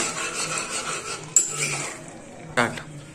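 Bombay rava (semolina) being stirred in a pan on medium flame for ravva kesari, a soft scraping of a metal spoon with two sharper clinks against the pan, close and alone.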